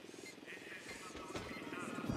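A patrol helicopter in Ghost Recon Wildlands drones with a steady rotor buzz. It sounds moderately distant, and a voice speaks over it.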